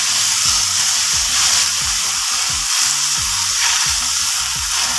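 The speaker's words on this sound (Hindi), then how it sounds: "इस स्टेज पे हम ये जो हमने पनीर निकाला है ये शामिल कर देंगे और अच्छे से मिक्स करेंगे।" Paneer stirred into bubbling caramel while making barfi from spoiled milk, with a loud, steady sizzle and hiss under rhythmic spoon strokes scraping and mixing close by.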